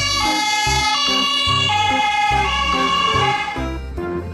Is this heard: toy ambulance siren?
yes